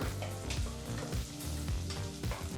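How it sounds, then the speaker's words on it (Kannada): Onion fries in oil and butter over a medium flame, giving a steady, loud, close sizzle with occasional stirring scrapes and no voices. "ಈರುಳ್ಳಿನ ಮೀಡಿಯಂ ಫ್ಲೇಮ್ನಲ್ಲೇ ಚೆನ್ನಾಗಿ ಫ್ರೈ ಮಾಡ್ಕೊಳ್ಳೋಣ"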